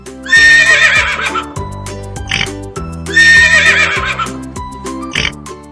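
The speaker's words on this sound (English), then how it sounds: "This is a horse." A horse neighs twice, each a shrill, quavering whinny followed by a snort, over light rhythmic background music.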